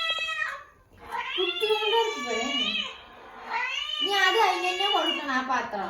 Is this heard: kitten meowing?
yes